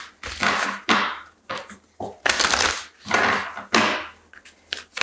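Oracle cards are shuffled by hand in crisp, rapid riffling bursts separated by short pauses, close and clear, about six rounds of papery flutter with no talk.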